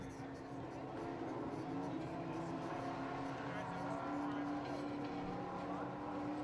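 A race car circles slowly on a pace lap at Sunset Speedway, its engine a steady, moderately loud drone that holds even throughout with no sharp revs.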